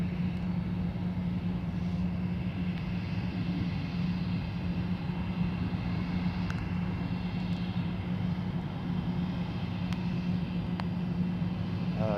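An airliner on United flight UA130, diverted in an emergency, makes a steady, droning engine roar as it comes in to land. The sound holds at a constant level throughout with no speech.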